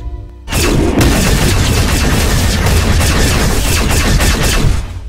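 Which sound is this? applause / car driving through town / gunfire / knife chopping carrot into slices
gunfire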